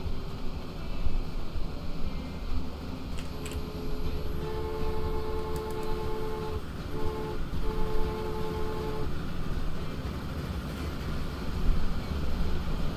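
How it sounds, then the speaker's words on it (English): A train horn in the railway game Transport Fever 2 sounds a sustained chord for about four seconds, mid-loud over a constant rumbling engine and ambient game noise. "you can press H to honk the horn"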